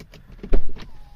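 The door of an Audi A6 C7 opens with the ignition off, making a brief, loud mechanical clunk and a short whir in an otherwise quiet car.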